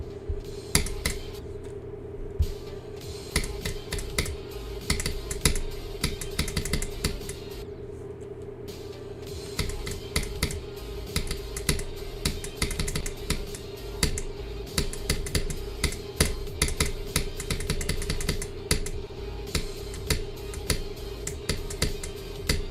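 Laptop keys clatter in bursts of quick, close, crisp clicks, sometimes rapid and dense, sometimes pausing, over a steady low hum.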